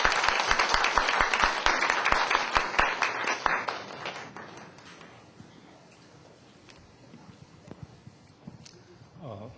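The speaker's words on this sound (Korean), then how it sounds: "나오실 때는 우리 뜨거운 박수 좀 부탁드립니다." Audience claps warmly for a speaker coming up at a church presbytery camp forum; dense, loud clapping for the first few seconds that thins out and fades into a quieter room.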